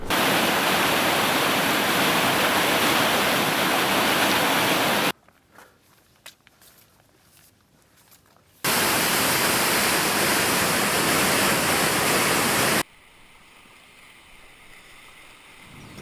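Rushing water on the Colorado River during a kayak trip, heard as loud, steady broadband flow in two long stretches, broken by quieter gaps with faint clicks and handling sounds.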